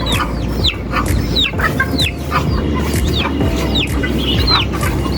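Chickens and their chicks cluck and cheep close by in a yard, a dense, continuous chorus of short calls and high peeps with no talking.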